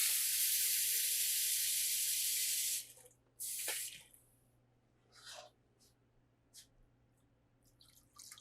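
Water added to a cooking pot for an African yam and cocoyam leaf stew, a loud continuous rushing pour for about three seconds, followed by a short second splash and a few faint drips and clinks.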